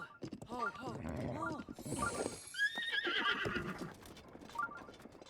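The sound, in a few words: horse neighing and hooves, video game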